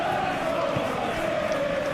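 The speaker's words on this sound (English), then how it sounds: "Now the crowd are demanding that they just finish this off." Stadium crowd in the PES 21 football video game at a Liverpool versus Chelsea match, a dense continuous roar with a sustained chanting tone, loud and unbroken throughout, with commentary voice over it.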